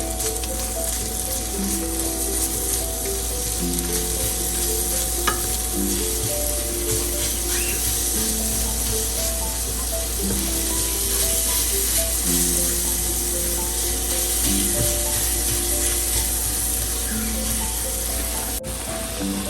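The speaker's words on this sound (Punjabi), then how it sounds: "ਲਸਣ ਅਦਰਕ ਭੁੱਜ ਗਿਆ ਜੀ" Garlic and ginger fry in a pan for a chayote curry, giving a steady, loud sizzle that runs unbroken throughout with no one talking.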